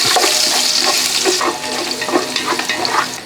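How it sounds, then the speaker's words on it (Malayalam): Ginger and garlic tossed into frying masala for vegetable biryani make a loud, close sizzle with bubbling, wet stirring sounds through the whole short stretch. "ഇനി ഇഞ്ചി വെളുത്തുള്ളിയും കൂടെ നമുക്ക് ഇട്ട് ഇളക്കി"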